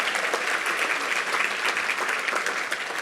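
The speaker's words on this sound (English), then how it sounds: "a round of applause all the way to her house where she's sick" Steady audience applause at a Women Helping Women event, dense and even clapping from a crowd filling the whole stretch without letup.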